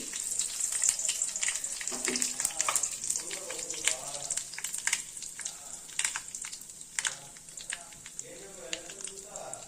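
Curry leaves crackle and sizzle in hot oil in a tomato curry pan, a steady close frying hiss dotted with sharp pops and spits throughout, with soft stirring noises underneath.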